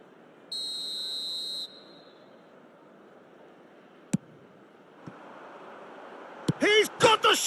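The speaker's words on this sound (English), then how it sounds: "And the whistle's gone, presumably for offside." In a football video game, a referee's whistle blows once for offside, a shrill, steady tone lasting about a second. Quieter game noise follows, then commentary starts near the end.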